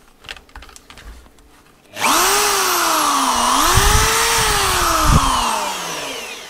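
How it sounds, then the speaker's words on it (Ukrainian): An electric drill powered from an ANENJI 4 kW hybrid solar inverter switches on after a quiet lead-in. It runs loud and continuous with a shifting whine as the speed changes, then holds at full speed. "Підключаємо дрельку і включаємо роботу."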